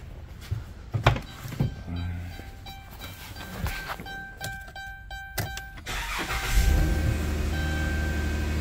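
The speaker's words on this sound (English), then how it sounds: "And that should allow the fuel pump to come on, the engine to run." A 2012 Chrysler Town & Country minivan, running on a fuel pump relay bypass after a TIPM swap, goes through chimes and clicks before the engine cranks and catches, then settles into a steady close idle.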